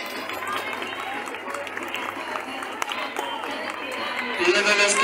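A crowd applauds a school's allegorical float at an Independence Day parade in Zacualpan, State of Mexico: steady dense clapping with outdoor crowd noise, swelling slightly louder toward the end.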